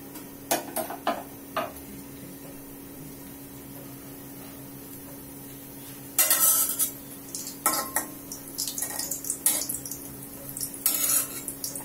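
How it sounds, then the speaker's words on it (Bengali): Hot oil spattering in a home kitchen pan while evening snacks fry, heard as scattered crackling pops and bursts of sizzle with a few clinks of utensils, fairly close and moderate in level, no talking. "তো তেলও মাঝে মধ্যে ছিটা করে"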